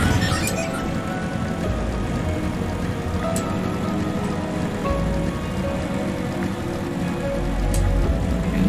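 Steady rain in Final Fantasy XIV: Shadowbringers, a constant, even patter on surfaces with occasional sharper drips, heard alone throughout.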